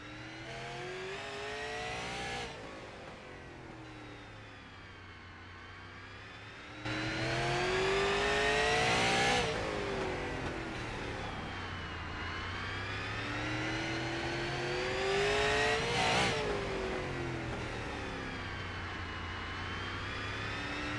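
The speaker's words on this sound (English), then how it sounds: "Give y'all a lap around Nashville Fairgrounds. I'll lay out and let y'all listen to the throttle." A super late model race car engine laps Nashville Fairgrounds, loud and continuous, with rising throttle bursts and sweeping pitch as the car accelerates and lifts through the corners, with no talk.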